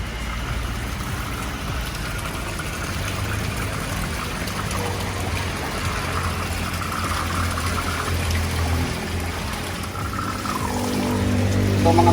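Water pours steadily from a spout into a koi tank, a continuous splashing trickle that holds at an even level and grows slightly louder near the end.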